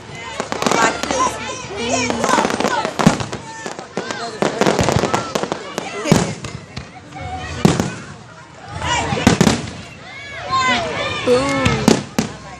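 Firework show in a park, with repeated loud booms and crackling bursts going off in irregular clusters throughout, while people nearby talk and react over the explosions.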